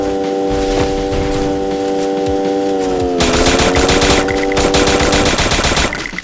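Rapid automatic gunfire from the mobile battle royale game Free Fire crackles in dense, loud bursts over a steady synthetic tone, with no talking.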